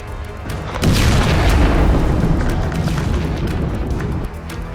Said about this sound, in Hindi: अमेरिका इजराइल की ताबड़तोड़ एयर स्ट्राइक से कई जगह धमाके हुए